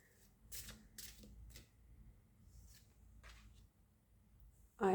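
Oracle cards being handled and arranged on a surface: scattered soft slides, taps and shuffling flicks in irregular bursts, quiet and close, ending in a brief louder knock.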